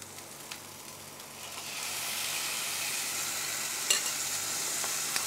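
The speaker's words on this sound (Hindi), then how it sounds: "अब हम मैरिनेट करे हुए जो कलेजी है वो डाल देंगे" Marinated mutton liver goes into hot fried masala, and a faint sizzle quickly rises to a steady, loud frying hiss with an occasional stirring clack, and no talking.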